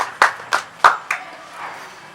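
An audience at an all-India Hindi poetry and music evening gives a few scattered, distinct claps, about four sharp separate hits followed by a faint softer patter.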